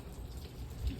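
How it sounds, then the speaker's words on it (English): Steady rain falls on a rainy day, a soft, even wash of patter heard from close by, faint and continuous with no voices. "It's just a rain."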